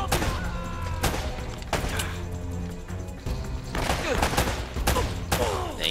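Enemy gunfire in Uncharted: Drake's Fortune, repeated loud shots and bursts landing roughly every second, with impact clatter between them, all close and harsh.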